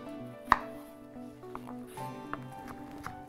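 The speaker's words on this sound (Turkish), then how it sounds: "Şöyle minik minik minik minik doğrayabiliriz." Knife chopping vegetables into small pieces for a spoon salad on a cutting board, a few sharp, separate close taps, one louder first strike then lighter cuts, over a quiet kitchen background.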